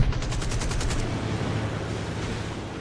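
Rapid machine-gun bursts from fighter aircraft in the World War II air combat game Birds of Steel, loud and close, a dense rattling stream that holds steady against the drone of engines with no talk.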